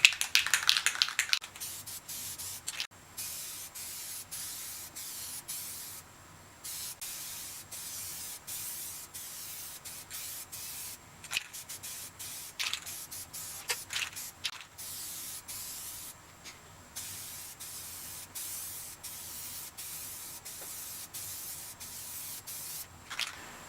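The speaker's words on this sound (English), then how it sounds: "I'm going to paint it with this SEM color coat" Aerosol can of SEM color coat sprayed onto a plastic car door panel in repeated short hissing bursts with brief pauses, close and fairly quiet.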